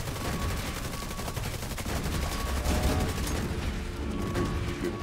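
Gunfire in the video game Division 2 during a raid, with dense continuous automatic bursts and rapid shots at moderate loudness for several seconds.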